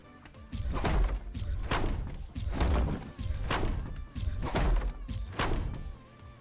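Gun ports and planks snap into place on a brigantine in the game ATLAS, a run of roughly six heavy thuds and knocks spaced about a second apart, each with a short resonant tail.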